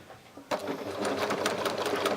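A sewing machine runs steadily after a brief quiet start, back-stitching a fabric scrunchie with hot pink thread; the close, continuous motor whir and needle chatter fill the rest of the stretch without any talk.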